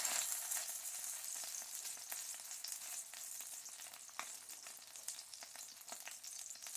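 A hoe cake of simple batter fries in hot grease in a pan, giving a quiet, steady sizzle with fine crackling spatters and a few sharper pops.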